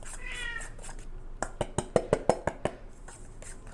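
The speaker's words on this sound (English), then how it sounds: "I see my black cat has joined." A black cat meows once in a drawn-out call, then a quick series of sharp clinks and taps from dishes or utensils follows in a kitchen while cake is being made, all fairly quiet.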